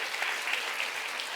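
An audience applauds a hair model during a haircut and styling demonstration, with dense, even clapping that is steady and moderately loud, heard alone without talk.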